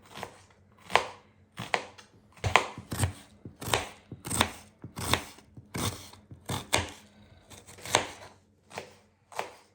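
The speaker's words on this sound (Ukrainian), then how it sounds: "Нарізаю я так, пополам цибульку. І потім ще раз пополам." A knife slices onions into half-rings on a board, about a dozen crisp, close chopping strokes in an uneven rhythm with short pauses between them; no speech.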